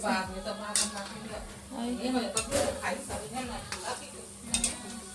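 Pots, pans and utensils clatter and scrape in a home kitchen while dough is handled and puri are fried, with irregular close clinks and knocks over a soft sizzle and people talking.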